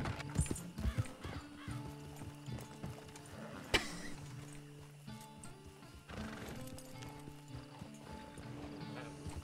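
Horse hooves clip-clop steadily in the Red Dead Redemption roleplay game, a close rhythmic trotting with an occasional whinny and faint background game noise, no talking.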